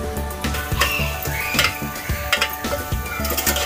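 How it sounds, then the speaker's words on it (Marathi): Ingredients for katachi amti, a Maharashtrian lentil dish, dry roasting in a pan over low gas, with a spoon scraping and knocking against the metal in a steady rhythm under a soft, constant crackle. "याप्रमाणे आपल्याला असं कोरड असं भाजायचं आहे त्याला."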